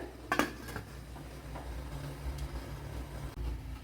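A metal lid clanks shut on a steaming pot during preparation of a ragi sweet, one sharp close clatter followed by quiet kitchen hum and a faint later knock.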